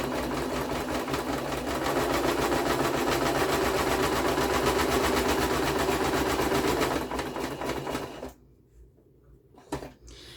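A sewing machine stitches a zigzag through a junk journal notebook, running loud and steady for about eight seconds before stopping abruptly, followed by a faint, brief clunk.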